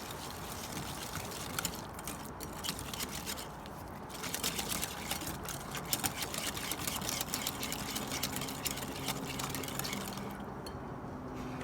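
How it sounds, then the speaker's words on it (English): A whisk beats coconut sugar and maple syrup together in a bowl, a quiet rapid continuous scraping rattle that runs steadily for about twelve seconds with small irregular clicks, close and alone without talk. "2 tablespoons of coconut sugar. 1 tablespoon of maple syrup. I'm going to whisk this together."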